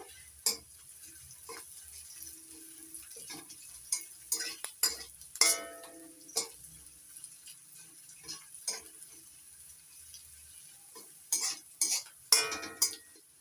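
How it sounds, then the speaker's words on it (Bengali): Onion, garlic, ginger and chilli frying in a pan for a semolina snack, with a faint sizzle underneath and a series of sharp spatula taps and scrapes in irregular bursts, close and intermittent. "পেঁয়াজ রসুন আদা লঙ্কা সব ভেজে নিয়েছি"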